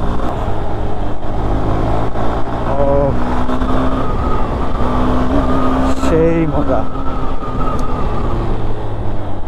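A Honda Hornet 2.0 motorcycle with a Honda CB190F-derived engine being ridden on the road. Its engine note hums steadily and rises and falls with the throttle, under wind noise, while a rider talks over it.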